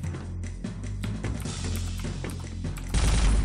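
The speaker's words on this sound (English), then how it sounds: "Avoiding his fucking rockets is fucking impossible" A boss in the shooter SiN: Wages of SiN fires rockets, with rapid bursts of gunfire-like blasts and deep booms rattling close together, ending in a heavier, louder explosion.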